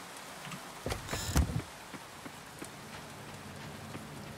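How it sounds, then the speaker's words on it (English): Steady rain patter from the cozy farming game Coral Island, a soft continuous hiss with light droplet ticks throughout, a few louder thumps of game effects near the start, and no talking. "Oh, that rain sound is so good."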